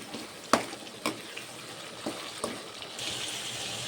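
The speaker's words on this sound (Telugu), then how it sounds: "ఇప్పుడు దీంట్లోకి కొద్దిగా కరివేపాకు, కట్ చేసి పెట్టుకున్న పచ్చిమిర్చి వేసుకొని ఒకసారి కలిపేసుకుందాం" Tomatoes, curry leaves and chopped green chillies frying in a pan for a fish curry, with a soft steady sizzle and several distinct scraping knocks of a spoon stirring, up close.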